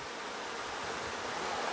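Honeybees buzz over a brood frame lifted from a queenless hive during a one-week inspection, a dense continuous hum close by with no voices.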